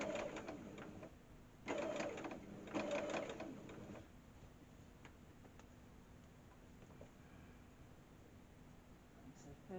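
A sewing machine stitches quilt pieces for a Mini Lone Star, with two short, louder runs of stitching early on, then faint mechanical ticking under a low, steady hum.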